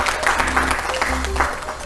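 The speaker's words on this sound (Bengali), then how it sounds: "সবাই জোরে হাততালি" Studio audience clapping on a family quiz game show, a steady burst of applause with some talk mixed in, ending on a sharp knock.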